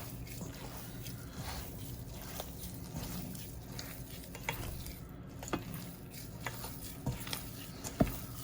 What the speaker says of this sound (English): Just, you know, mix it with your hand.